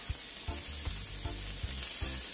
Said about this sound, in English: I'm gonna make the other side fry for 2 minutes.